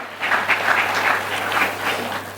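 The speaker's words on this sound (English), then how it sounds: "Have a big claps for the BRIT Worldwide system." An audience claps steadily at a business motivational event, a dense, continuous patter of many hands filling the room for a couple of seconds with no voices over it.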